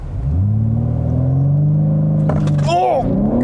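A 2022 BMW M3 Competition xDrive with all-wheel drive launches hard, its engine rumbling low and rising steadily in pitch as it accelerates, loud and close, before a quick upshift; a voice exclaims near the end.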